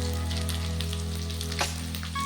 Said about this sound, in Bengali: পেস্টটা দিয়ে পেঁয়াজটার সাথে ভালোভাবে নেড়ে চেড়ে আমি ভেজে নিচ্ছি